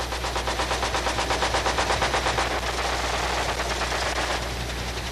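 Machine gun fire from a Vietnam War helicopter gunship, loud and close, in a rapid rattling stream of shots that carries on for several seconds before easing into a steady roar.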